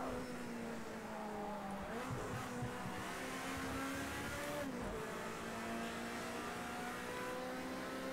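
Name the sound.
racing cars, Mercedes and Nissans, in a racing video game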